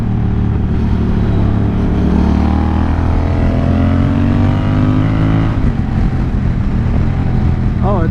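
A Honda Rebel 1100 DCT cruiser motorcycle on a racetrack, its engine droning loudly and climbing steadily in pitch before a gear change drops the revs, with a rider speaking over the engine noise.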